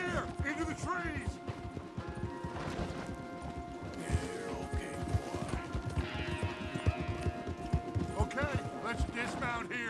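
Horse hooves pounding in a rapid, steady gallop in a video game, close and continuous, with voices talking over the hoofbeats and occasional clanks and crashes.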